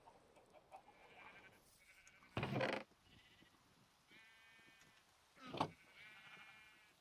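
Sheep in a Minecraft-style video game bleat in short, nasal calls scattered through the clip, with two louder, broader bursts standing out among the quieter bleats.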